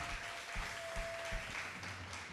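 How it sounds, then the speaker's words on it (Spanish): A church congregation clapping in praise, brief and fairly faint, with a quick burst of claps that thins out within a couple of seconds. "Démosle un aplauso al Señor porque Él es lo primero."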